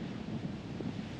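Wind and waves on Lake Superior on a rough night, a steady low broadband rush with gusting wind buffeting the microphone, no voices over it.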